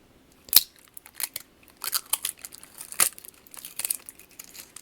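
Strong, aggressive adhesive tape is peeled away from the deflection coils of a JVC GX-N7 video camera during a teardown. It comes as a close series of sharp, crackly tearing bursts with short pauses between them, and no one speaks.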